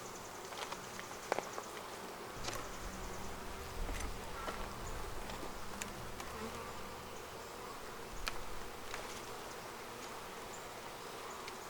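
Honey bees from a Flow Hive swarm with a steady, dense buzz as frames are shaken out, with the droning close and constant and a few faint knocks and rustles beneath it.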